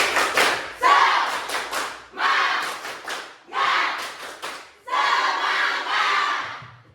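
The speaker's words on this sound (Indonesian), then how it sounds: "Oke, tepuk semangat." At a Hindu community gathering, an audience performs a rhythmic spirit clap, loud bursts of patterned hand claps with shouted calls in four distinct groups separated by brief pauses.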